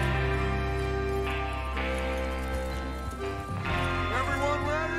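Horses gallop in the video game Red Dead Redemption II. A steady drum of hoofbeats runs beneath loud orchestral game music and voices.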